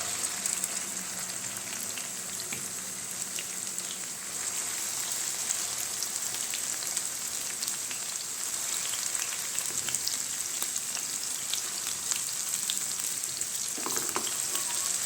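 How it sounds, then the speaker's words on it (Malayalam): A constant, bubbling sizzle of okra deep frying in plenty of hot coconut oil, close up and even throughout, with no voices. "ഇതിലേക്ക് വെണ്ടയ്ക്ക് ചേർത്ത് ഫ്രൈ ചെയ്ത് കൊടുക്കാം"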